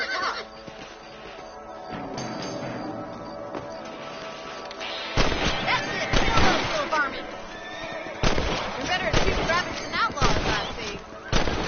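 Sharp rifle shots crack out in bursts in the game Red Dead Redemption, loud and close, over a continuous background of music and ambient noise.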